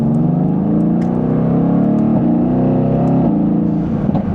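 A Mercedes-AMG GT S engine hums in a steady, rising drone during mild acceleration, heard from inside the car as a continuous low growl.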